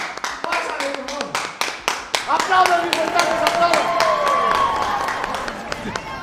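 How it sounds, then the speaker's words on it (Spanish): A television host stands and claps to welcome a guest walking onto the set, sharp close hand claps repeating steadily over several seconds while voices talk and laugh underneath. "yo me voy a levantar y le voy a aplaudir mientras entra"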